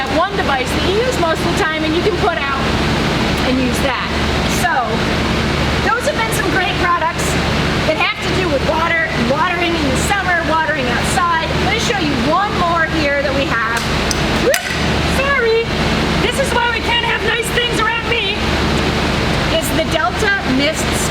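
A garden sprinkler lying flat sprays water in a steady, close hiss of spray that runs continuously throughout, with a person talking over it.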